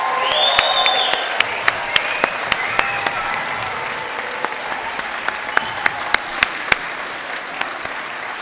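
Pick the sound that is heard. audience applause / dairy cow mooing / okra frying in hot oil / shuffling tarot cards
audience applause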